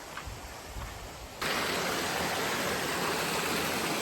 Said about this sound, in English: Crossing the waterfall right now.